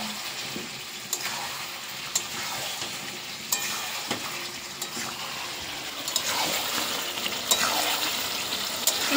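Chicken cooking in a pan gives a soft, steady sizzle, with occasional scraping stirs and clinks of a utensil against the pan at intervals, moderately close and without voices.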